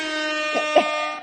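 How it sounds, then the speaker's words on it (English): Air horn sound effect, a loud sustained brassy blast with a couple of quick pitch bumps in the middle, lasting just over a second before cutting off. "I had to bring out, my favorite air horn sound"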